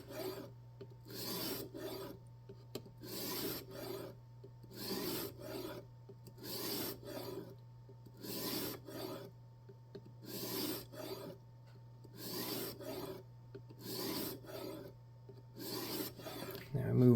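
Knife blade over 20 years old being sharpened on a jig sharpening system, a steady series of rasping strokes, about a dozen back-and-forth passes at an even rhythm, close and alone over a constant low hum.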